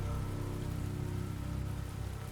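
Steady rain patters against a farmhouse roof, a dense, even wash of drops with a low rumbling bed, continuous and close throughout.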